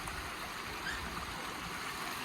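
Water trickles steadily and softly through a pondless water feature at a house entry that catches rainwater off the roof, a continuous gentle wash with no other sounds.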